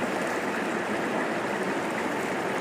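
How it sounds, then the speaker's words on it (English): A river on Dartmoor flowing steadily, a broad, even rush of water close by with no breaks or voices over the whole stretch. "Perhaps we'll walk the length of the river."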